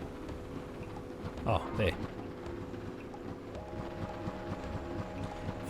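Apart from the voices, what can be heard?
sand cutter hover vehicle riding in video game Sable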